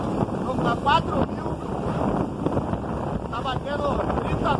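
A Focker motorboat speeding at around 30 knots through choppy open sea, a steady loud rush of engine, wind buffeting and water spray, with someone talking over the noise.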